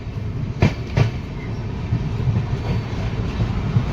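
A train rolling toward Tilhar station in Uttar Pradesh, heard from on board. A steady low rumble of the rail carriage carries a rhythmic clatter, with two sharp knocks near the start.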